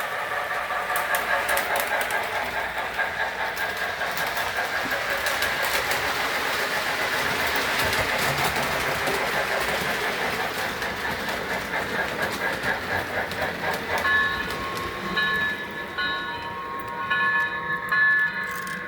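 A model train runs smoothly along its track with a steady, continuous clickety-clack rolling sound, close and moderately loud, with no talking.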